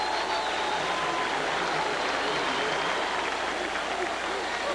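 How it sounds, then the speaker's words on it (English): Stadium crowd roaring steadily at a 1990 preseason NFL game between the Cincinnati Bengals and Tampa Bay Buccaneers as the kickoff is made, a dense, continuous wash of cheering at even loudness throughout. "listen to the crowd for Christie's kickoff"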